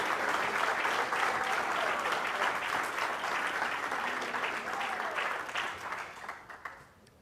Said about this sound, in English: Plainfield, let us show them a loud round of applause, love, respect, appreciation that they deserve.